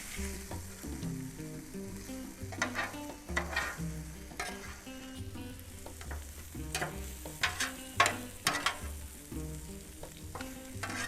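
Carrots, onions and bacon sizzle and fry in a pan, with steady crackling under repeated scraping stirs and clinks of a utensil, all close and moderately loud with no talking.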